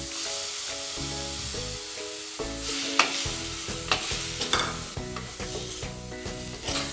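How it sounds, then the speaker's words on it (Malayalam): Tomatoes fry in oil in a pan for a Kerala fish curry, a steady loud sizzle broken by repeated scraping stirs of a spoon, with no talking. "ഈ തക്കാളി ഇതിലൊന്ന് കിടന്നിട്ട് വേവുന്നത് വരെ നമുക്ക് ഇളക്കി കൊടുക്കാം"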